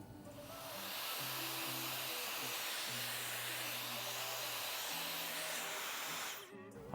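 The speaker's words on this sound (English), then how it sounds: "I use my diffuser in low heat, low heat, so I don't burn my client's scalp" A hair dryer fitted with a diffuser runs on low heat at a barbershop, giving a steady, loud close-up whoosh of airflow with a faint motor hum throughout, cutting off right at the end.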